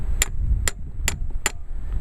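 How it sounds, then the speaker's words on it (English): A hammer strikes a metal tool four times at an even pace to tighten screws on a boat, each hit a sharp, close metallic tap over a low rumbling background. "every time I hit this with a hammer, it slowly tightens those screws up."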